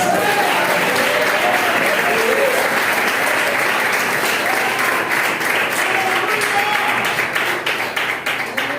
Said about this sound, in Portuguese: Glorifica com as palmas